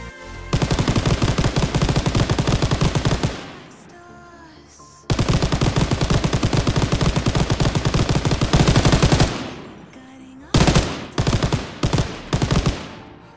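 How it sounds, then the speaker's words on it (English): MG42 machine gun in a WW2 Call of Duty weapon pack for Garry's Mod fires long, loud, rapid sustained bursts, separated by a brief pause, then several shorter choppy bursts. "that is literally the MG42 for you"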